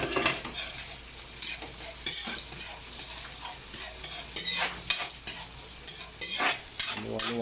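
Onions fry in a pan with a continuous moderate sizzle while a metal spoon scrapes and clinks against the pan in irregular stirring bursts, alone without speech.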